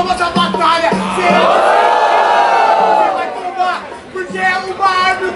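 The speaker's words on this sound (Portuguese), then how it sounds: "Palmas da batalha" A crowd at a Brazilian street rap battle, Batalha da Leste, cheers and hollers loudly in a sustained roar, with rhythmic low thumps that sound like group clapping running through it.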